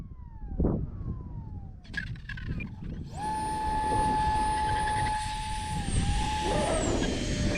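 A Value Hobby Dolphin EDF RC trainer jet comes in to land on tarmac, its ducted fan whining high and steady after quieter, rustling moments, the tone sliding slightly as it approaches.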